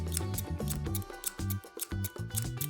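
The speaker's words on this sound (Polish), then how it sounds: "Narysuj duże koło na materiale i wytnij je." Scissors snip a large circle out of fabric for a handmade LOL Surprise doll dress, giving close, repeated cutting strokes in a steady rhythm for under three seconds with no talking.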